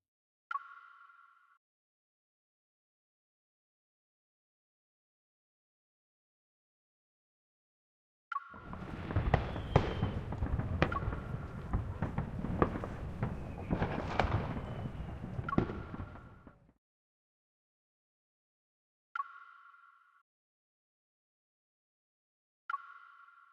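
Fireworks in the video game Love and Deepspace burst in a dense, crackling run of loud booms and pops lasting several seconds, framed by brief tonal chimes before and after.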